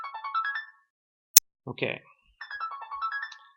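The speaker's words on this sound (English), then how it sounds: "my other phone is ringing" A phone ringtone plays a short rising electronic melody, breaks off for a click and a brief spoken word, then repeats the same tune. It sounds faint and near in a quiet room.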